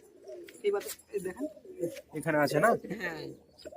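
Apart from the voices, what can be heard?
pigeons cooing in a loft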